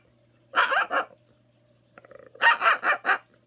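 A person vocally imitates a small, yappy ankle-biter dog, giving two bursts of sharp barks: a quick pair, then a pause and a rapid run of four yaps, close and clear with no other sound.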